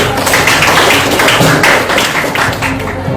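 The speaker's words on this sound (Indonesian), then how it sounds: "kita beri aplaus" Classroom applause, a dense, steady burst of many hands clapping together for about three seconds, filling the room at close range.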